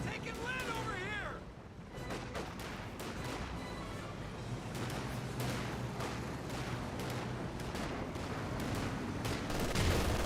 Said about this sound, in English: LMG's firing away